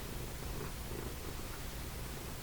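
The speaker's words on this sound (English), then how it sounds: "Can you hear my cat purring?" A cat purring up close, a faint, steady low rumble running without a break, quiet and alone with no talking.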